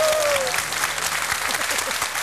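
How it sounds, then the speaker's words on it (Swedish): A studio audience at a Swedish TV lottery show claps warmly, with steady, dense applause continuing throughout. "Stor varm applåd"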